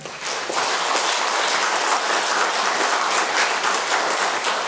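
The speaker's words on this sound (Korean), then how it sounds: "우리 하나님께 영광의 박수를 한번 보내도록 하겠습니다" A large church congregation at a Sunday service claps steadily and loudly, a dense, sustained applause that holds at an even level throughout.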